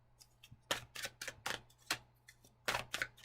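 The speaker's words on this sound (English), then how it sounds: "The cards are shuffling" A deck of tarot cards is shuffled by hand, producing a quick series of close, crisp papery riffles and flicks in uneven bursts, alone and fairly quiet.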